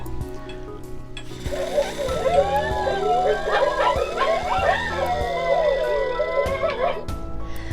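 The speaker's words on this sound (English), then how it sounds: "That's when Coyote began to howl." A coyote's drawn-out, wavering howl with yips and whimpers rises and falls over steady background noise, continuing for several seconds.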